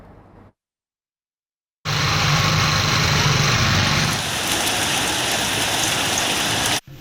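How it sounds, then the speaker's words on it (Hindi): Heavy rain falls in Quetta, Balochistan, as a dense, steady hiss that starts abruptly after a short silence, holds loud and close for several seconds, then cuts off. "इंतजार खत्म, बादल बरस पड़े।"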